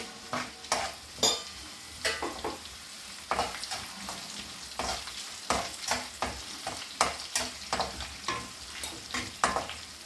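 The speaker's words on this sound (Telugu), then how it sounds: "వేగాలి కరివేపాకు ఎండుమిర్చి" Curry leaves and dried red chillies sizzle and crackle in hot oil as they fry. Intermittent scraping and stirring knocks sound close up over a constant frying hiss, with no voices.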